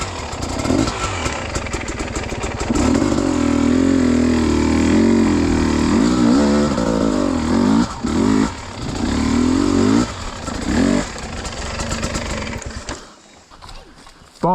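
A dirt bike rides a muddy trail in pouring rain, its engine droning and revving loudly up close, then dropping away toward the end.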